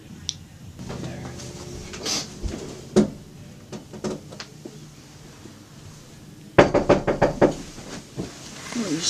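Knocking on a locked door indoors, a few scattered raps early on, then a loud burst of rapid knocks near the end, with faint talk in the background.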